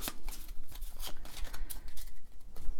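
Cards for the board game Darklight Memento Mori being shuffled close up, a steady run of crisp riffling flutters and soft slaps with no talking.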